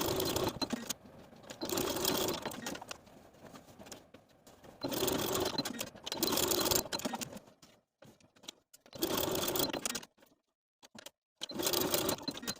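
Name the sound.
sewing machine sewing straps onto a dress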